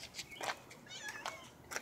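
A pet cat meows several times in a short burst, close by and fairly faint, with a few soft high mews spread across a couple of seconds over quiet room background.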